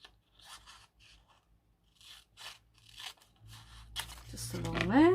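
Scissors cutting paper card for a craft tag, heard as a close rasping, crinkling snip that builds louder toward the end, with quiet talk and soft handling noises before it.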